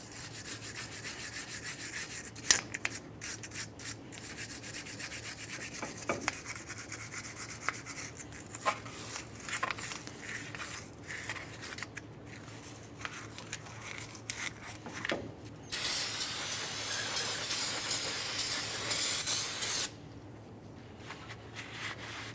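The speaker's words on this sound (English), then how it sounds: "Continue with your wire brush and some parts cleaner if necessary." Wire brush scrubbing the mating surface of a wheel hub on a 1994-2001 Dodge Ram 1500 during a front bearing replacement, irregular scratchy strokes close up, then a loud steady hiss of parts cleaner spray lasting several seconds.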